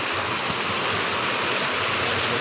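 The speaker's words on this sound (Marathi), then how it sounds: "असा ओढा पडतो" A stream at the Sapteshwar temple in Sangameshwar flows nearby with a steady, continuous rushing of water, loud and even throughout, with no voices.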